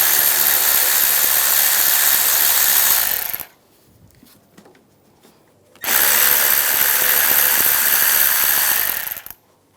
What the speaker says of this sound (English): Using a 8mm socket, there's some screws on the side.